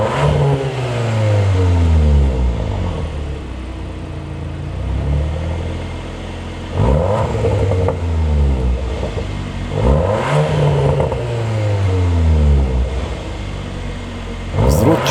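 A 2025 Cupra Leon VZ ST estate with a 333 hp engine and 4x4, revved in Cupra mode: four loud, close throttle blips rise sharply in pitch and fall back to idle between them.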